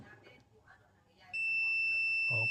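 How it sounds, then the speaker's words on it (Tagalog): A steady, piercing electronic beep from a Klein clamp meter's continuity buzzer starts abruptly and holds continuously, with a person speaking briefly before and under it. "i-test natin ang buzzer."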